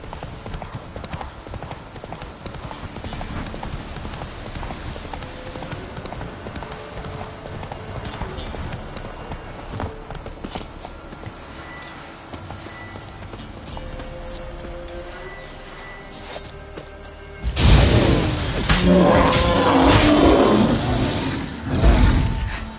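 Hooves of Roach, the horse in The Witcher 3 next-gen on PS5, clopping in a steady galloping rhythm, close and clear, with a louder burst of rough noise near the end and a voice briefly.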